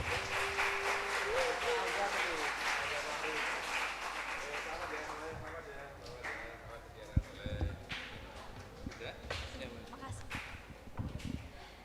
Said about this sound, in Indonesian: Tepuk tangan yang meriah sekali lagi untuk para pemenang lomba